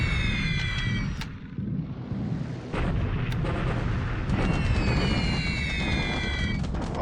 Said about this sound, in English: Not a single bomb hit in a clear sky.